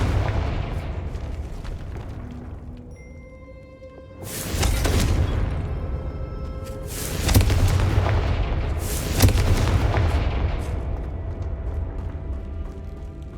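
Confringo spell blasts in the video game Hogwarts Legacy: three loud, booming explosions a few seconds apart over a low ambient rumble.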